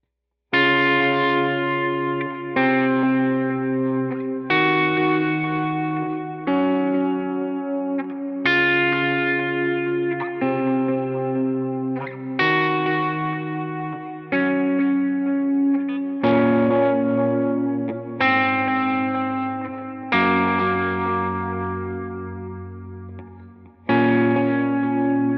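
An electric lead guitar runs through effects such as distortion, chorus and echo, playing a clear melodic line of sustained notes for about 25 seconds, close and steady, with no voices.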